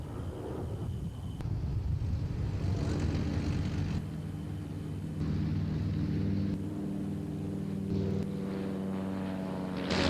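An A-37 Dragonfly jet, a Vietnam-era warbird, flying at an Australian airshow, heard as a loud sustained engine roar with shifting pitch and wind buffeting over the microphone.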